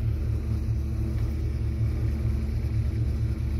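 A Ford Foxbody V8 with a Holley Terminator X kit idles at around 1000 rpm, a deep steady rumble with a pulsing low throb, close and even throughout.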